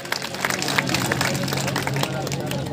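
An audience claps at a Devnarayan temple inauguration ceremony in Badi Khatu, a dense, steady patter of many hands close by, mixed with crowd murmur and chatter.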